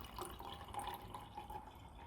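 Kangen ionised water with a pH of 9.5 poured into a glass of 7-Up: a continuous, fairly quiet liquid pour with soft fizzy trickling detail, steady throughout and without speech.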